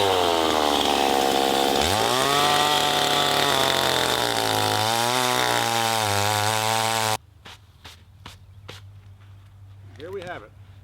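A loud chainsaw roars and bogs down as it cuts maple wood, its pitch rising and falling, then cuts out, leaving quieter knocks and a voice.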